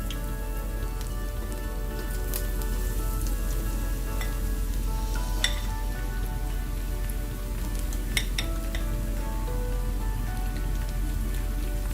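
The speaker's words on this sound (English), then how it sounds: "Shake them off and just drop them into the oil." Battered cauliflower pieces for gobi manchurian frying in hot oil, a dense, steady crackling sizzle like rain on a surface, close up, with occasional faint metallic clinks and no talk.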